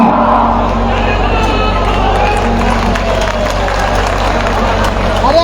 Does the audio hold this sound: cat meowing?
no